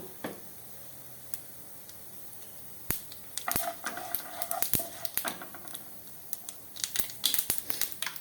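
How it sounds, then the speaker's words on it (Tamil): Irregular sharp pops and crackles of mustard seeds spluttering in hot oil, scattered over a faint background hiss, growing busier toward the end. "கடுகு வெடிக்கட்டும் உளுந்து செவக்கட்டும்"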